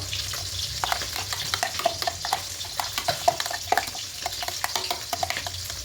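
A spoon scrapes and stirs thick fish-curry spice paste in a hot pan, with soft sizzling and irregular clacks against the metal.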